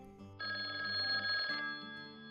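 A telephone rings for an incoming call from an unknown number, one steady electronic trill lasting about a second over a faint tonal background, heard alone without voices.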